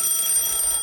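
An alarm clock rings with a shrill, high, continuous electronic tone that holds steady at close range for under a second, alone with nothing else audible.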